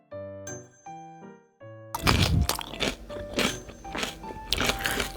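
Homemade young radish kimchi (yeolmu kimchi) is bitten and chewed up close: a few light clinks of a utensil first, then loud, crisp crunching bites in a repeating chewing rhythm.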